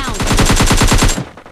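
Rapid automatic gunfire in the video game PUBG Lite, about a dozen loud, evenly spaced shots in one close burst that cuts off abruptly.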